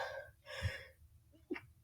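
A single quiet sneeze with a sharp breathy burst, followed by a short gasp-like intake of breath.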